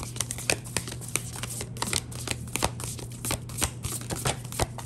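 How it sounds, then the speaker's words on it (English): Oracle cards being shuffled by hand close up, a quick run of crisp, irregular riffling slaps and flicks that goes on for several seconds, fairly quiet with no talk. "I'm going to shuffle this way."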